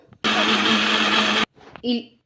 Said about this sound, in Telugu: మూత పెట్టేసుకొని మిక్సీ అయితే పట్టేసుకుందాం